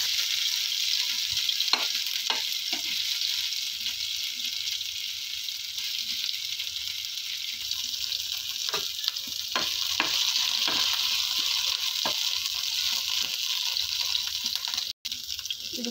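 Crushed green chili and ginger sizzle steadily in hot oil in a pan, a continuous close frying hiss with occasional stirring clicks and scrapes, no talking.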